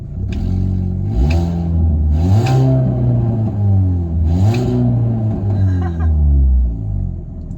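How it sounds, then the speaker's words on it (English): A Mini Cooper S engine revs up and drops back several times, loud and close, with rising and falling pitch sweeps over a steady idle rumble. "Let's give it a little rev."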